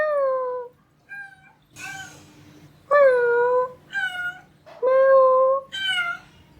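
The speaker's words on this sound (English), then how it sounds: "my occasional visitor, my street cum pet cat" A street cat that visits a house gives a series of clear, close meows, some drawn out and some short, separated by brief quiet gaps.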